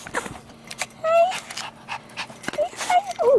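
A small dog pants quickly up close, mixed with soft whimpers and high squeaky whines, while a person speaks quietly in the background.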